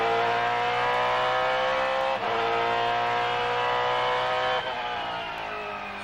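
Trans Am Series race car engine during a race at Cleveland, a loud sustained high-revving roar climbing steadily, with two quick shifts or lifts breaking the pitch before it rises again.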